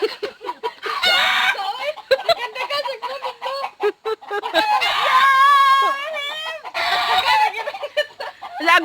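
A farmyard hen cackling after laying an egg in a rural hillside setting, with a loud run of repeated clucks and rising squawks, rooster-like calls mixed in, and people talking intermittently around it.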